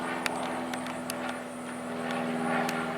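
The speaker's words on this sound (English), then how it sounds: "Let's briefly interrupt to see this aircraft flying by." An airplane flying overhead, heard as a steady droning hum with a low engine buzz that swells slightly toward the end, with a few faint clicks and taps nearby.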